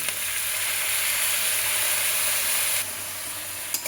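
Fried onion, soaked melon seeds, raisins and cashews sizzle loudly in a pan for a cauliflower roast, a close, steady frying hiss that drops a little near the end, followed by a brief clink.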